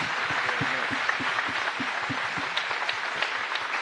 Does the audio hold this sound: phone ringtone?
no